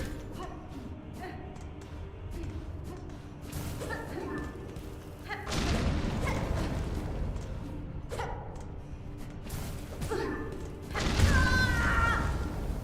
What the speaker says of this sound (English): Can someone please calm down the amount of explosions?